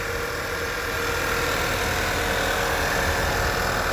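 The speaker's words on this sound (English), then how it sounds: "Shot of the exhaust with the motor running." A steady, smooth idle of a 2014 Volkswagen Tiguan engine, heard at the exhaust, with an even low rumble and constant hiss, holding at one level throughout with no voices.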